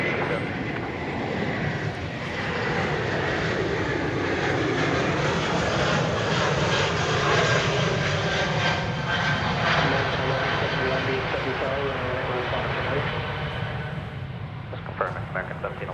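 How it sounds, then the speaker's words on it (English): An airliner takes off from runway 20 left at Dallas/Fort Worth Airport, its engines a loud, steady roar that holds and slowly swells through the whole stretch, with a voice faintly present underneath. "20 left, clear to take off"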